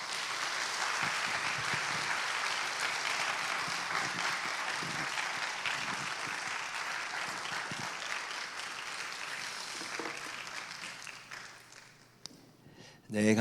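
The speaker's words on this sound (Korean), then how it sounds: "우리 김상임 목사님 나오실 때 우리 박수로 한번 맞이하도록 하겠습니다" A church congregation applauds at a special dawn prayer service to welcome a visiting pastor to the front, steady dense clapping filling the room for about twelve seconds before tapering off.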